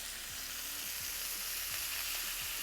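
Lobster tails sizzle steadily in a hot pan for Cajun lobster, a dense crackling hiss with a few faint clicks and scrapes, close and continuous with no voices.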